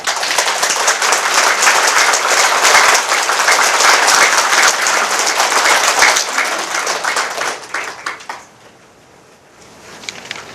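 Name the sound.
audience applause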